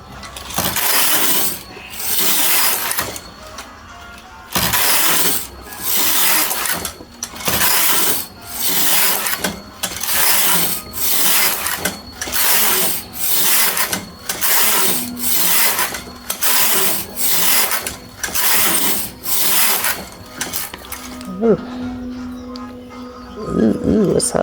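A machine knitting carriage slides back and forth across the bed knitting rows of yellow yarn, a regular rhythm of rasping sweeps about every second, ending with a brief pause and faint talk.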